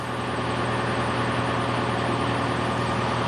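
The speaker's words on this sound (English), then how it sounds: "Engine starts." A truck's engine idles steadily right after starting, a continuous low rumble with a constant drone and no breaks, heard close and alone.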